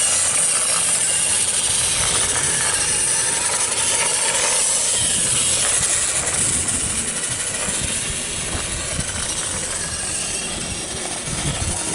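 A Radio Shack Red Shaker RC car runs in low gear, its small motor giving a steady, loud whirring grind with gritty rolling noise that holds constant throughout, no voices.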